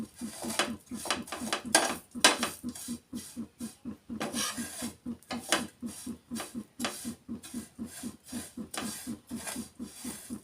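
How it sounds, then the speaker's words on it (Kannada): Thin shavige vermicelli roasting over a slow flame in a pan, a utensil scraping and stirring in a quick, steady rhythm of short rasping strokes. "ಸಣ್ಣ ಇರ್ತಾವ್ರಿ ಶಾವಿಗೆ ಭಾಳ, ಸ್ವಲ್ಪ ಸ್ಲೋ ಫ್ಲೇಮಲ್ಲಿ ಇಟ್ಟು ಹುರ್ಕೋಬೇಕ್ರಿ ಫ್ರೆಂಡ್ಸ"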